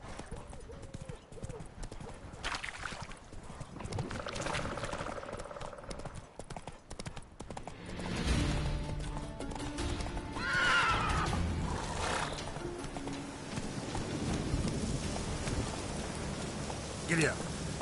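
A horse in The Witcher 3 clip-clops along at a gallop with repeated hoofbeats, whinnying now and then over a patter of rain and background game sounds.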